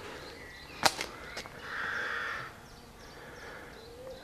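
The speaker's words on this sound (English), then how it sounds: "the birds are chirping as always" Birds call faintly outdoors in the gardens of Thornely Manor, with a few short, sharp cries standing out over a soft, steady background hush.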